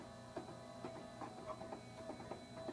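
A MakiBox 3D printer runs its first print, giving soft, regular ticking and stepping clicks over a faint steady machine hum, quiet and continuous throughout.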